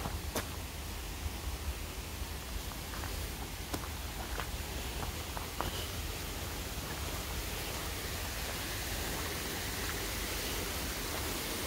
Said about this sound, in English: This is a spillway you're hearing. The spillway actually goes down into a tunnel.